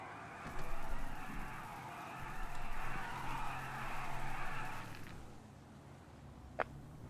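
A car driving and skidding in the GTA video game, a sustained tire squeal and engine rush that swells and fades over several seconds before cutting off, followed by a brief sharp click.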